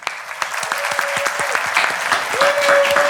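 A burst of recorded applause plays on a podcast as a guest, a bakery owner, is welcomed, a loud, continuous crowd clapping with a steady patter throughout and a faint tonal sound partway through.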